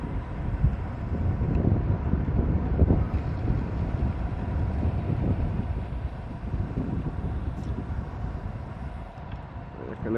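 Wind buffeting a microphone while riding a motorbike along an Alpine mountain road, a steady low rumbling roar that swells and eases, with a faint engine drone beneath and no clear speech.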